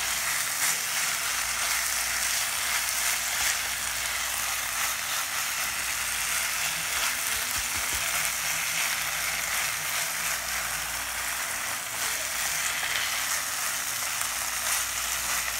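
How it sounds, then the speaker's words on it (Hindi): Homemade paneer bhurji, scrambled paneer, is mixed and fried in a pan, making a dense, unbroken frying hiss that holds at the same loudness from start to finish, with faint stirring underneath. "इसे मिक्स कर लेती हूँ अच्छे से।"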